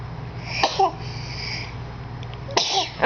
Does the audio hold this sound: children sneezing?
yes